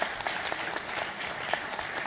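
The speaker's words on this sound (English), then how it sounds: "Can we have a huge round of applause for them?" An audience at a BNI business talk show claps, a brief, even burst of applause from many hands at moderate distance with no talk over it.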